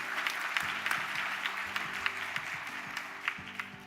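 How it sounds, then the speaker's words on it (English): Sustained audience applause for an honoree at a technology recognition ceremony, a full crowd clapping steadily with scattered sharper claps and a faint murmur of voices beneath. "Once again, round of applause for Karen Dates Dunmore"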